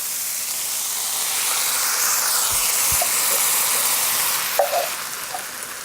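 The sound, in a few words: crushed pineapple sizzling in hot pot with onions, peppers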